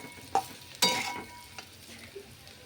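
A spoon stirs fried chilli potatoes with crushed peanuts in a pan, giving a few scraping clinks over a soft, close sizzle.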